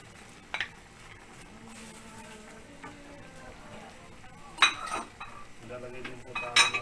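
Tofu goes into a pan of pork with black beans and is stirred, giving soft scraping and a few sharp clinks of utensil on the pan over a quiet kitchen background.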